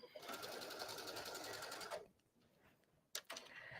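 A sewing machine stitches bias tape onto the edge of a mesh beach bag in a steady, close whir for about two seconds, then stops, leaving quiet handling noises and a brief sharp click near the end.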